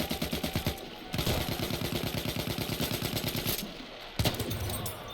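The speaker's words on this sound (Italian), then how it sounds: "qua un cannone proprio, è un cannone" Cannon and gunfire in the Battlefield 1 video game: rapid, rhythmic machine-gun bursts rattle continuously, broken by brief pauses and a sharp heavy blast near the end.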